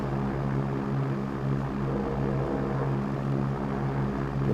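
A Twin Comanche twin-engine propeller plane climbing out over mountains in a flight sim, a steady droning engine hum with a low throbbing tone, constant and moderately loud with no talk.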